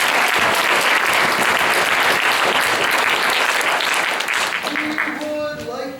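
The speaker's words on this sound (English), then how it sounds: "Give them a round of applause." Theater audience at a children's production of Cinderella giving a round of applause, dense loud clapping from a large crowd that fades toward the end as a tonal sound enters.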